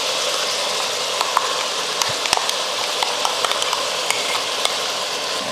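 Country chicken sautéing in a hot pan with ground masala, a steady dense sizzle throughout with occasional scraping clicks of stirring, close and continuous.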